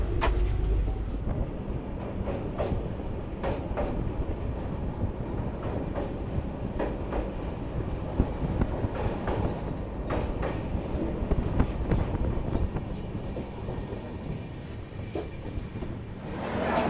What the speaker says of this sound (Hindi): यहाँ पे 2:35 के बाद हमारी ट्रेन पहुँची है बेगूसराय रेलवे स्टेशन